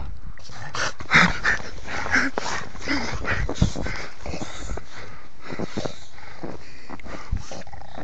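A bulldog playing in the snow, with close, lively yips, whimpers and short barks scattered through the stretch amid rustling movement.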